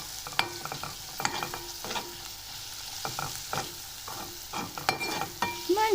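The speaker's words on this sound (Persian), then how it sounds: "حالا تفتش میدیم. قشنگ با شعله ملایم میذاریم بهمون تفت بخوره." Food is stir-fried in a pan over a low flame, with repeated scraping strokes of a utensil and bursts of clatter over a soft, continuous sizzle close by, with no talking.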